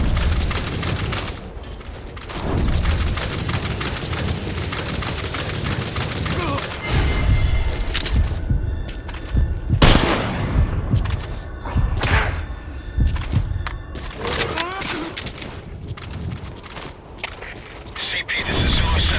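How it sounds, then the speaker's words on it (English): Gunfire in the stealth action game Metal Gear Solid V: Ground Zeroes, with repeated heavy thuds and sharp shots over a continuous busy game soundscape. Clusters of impacts land around the middle and near the end, and no one speaks. "CP, this is Zulu 7. Identify gunfire."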